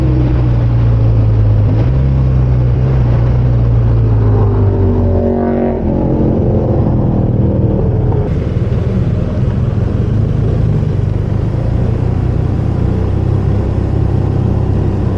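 A BMW R12 GS motorcycle engine drones loudly and steadily while riding, a constant close rumble with a brief dip and shift in engine pitch partway through, mixed with wind rush.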